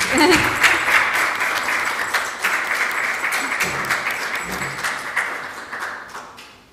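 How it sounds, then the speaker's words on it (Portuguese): Audience applause breaks out at an academic session on artificial intelligence, data science and virtual reality, a dense burst of clapping that starts strong and gradually thins and fades toward the end. "Penso que merecem uma salva de palmas, verdade?"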